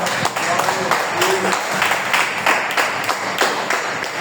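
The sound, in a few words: congregation applauding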